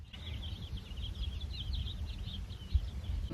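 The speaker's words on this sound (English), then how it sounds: "y'all hear all the birds?" Birds chirp and sing faintly in the morning at a desert campground near Blythe, California, with soft repeated calls over a low rumbling background.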